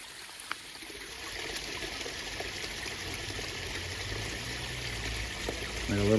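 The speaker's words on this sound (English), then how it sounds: "Like a little mini waterfall." Small forest waterfall trickling over tree roots, a steady soft wash of running water heard up close and fairly faint, continuous throughout with a slight swell at the end.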